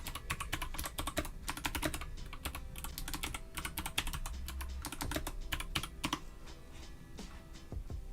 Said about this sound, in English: Let's do a typing test and see